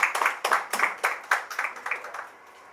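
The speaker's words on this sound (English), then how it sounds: "please give them a big round of applause" Scattered, close hand clapping from a small audience at the Danube Properties Filmfare Awards OTT 2024. The claps are distinct and uneven, fading out after about two seconds.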